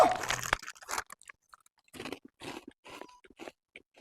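Crunchy Kurkure snack being eaten outdoors in a forest, a loud burst of crisp crunching at the start followed by scattered quieter chewing and rustling sounds.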